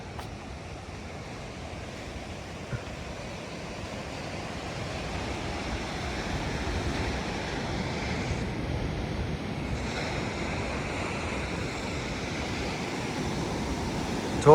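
Ocean waves roll steadily onto Ashkelon beach in Israel, a continuous broad wash of surf with wind buffeting the microphone, no voices present.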